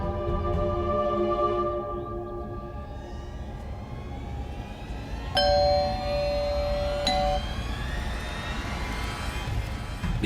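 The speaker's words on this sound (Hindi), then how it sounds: "घंटी बजा।" A doorbell at a house door in a suspense drama sounds two bright ringing tones over a steady low background hum, with a short sustained chime between them.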